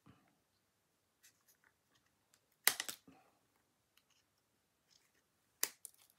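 Scissors cutting fabric for a small Christmas gift pouch, a few short close snips and crunches with quiet pauses between them and faint handling noises around them.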